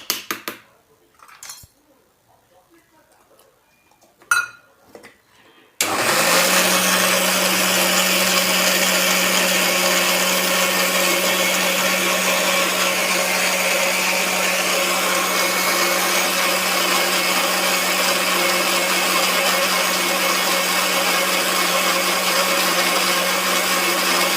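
A mixer grinder whirs to a fine paste of fresh coconut chutney. A few seconds of quiet handling and clatter come first, then the motor starts abruptly and runs loud, steady and unbroken at close range for the rest of the time.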